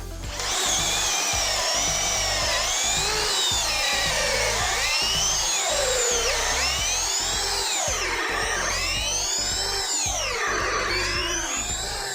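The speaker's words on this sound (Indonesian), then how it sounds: "saya menggunakan mata bor kayu ukuran 12 mm di percepatan nomor 2 dan modenya masih mode drilling" Doliz BD637 drill in drilling mode at speed 2 boring a 12 mm wood bit into 15 cm thick mahogany, a loud steady whine with rising and falling pitch and rough grinding chatter throughout, close by and without talk.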